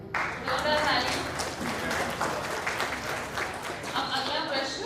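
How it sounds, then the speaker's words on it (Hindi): Audience applause at a quiz segment of a Birsa Munda 150th birth anniversary celebration, a steady wash of clapping under a voice speaking over it, lasting the whole stretch. "जोरदार ताली।"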